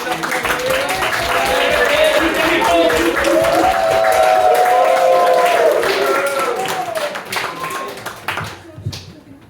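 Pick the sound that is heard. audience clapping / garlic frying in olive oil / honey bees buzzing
audience clapping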